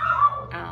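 A dog barks twice in quick succession, moderately close, with a whiny, yelping tone.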